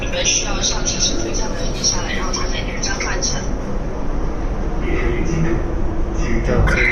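A driverless metro train in China pulling away, a loud continuous rumble and rolling noise from inside the car with a steady roar throughout, with voices talking over it.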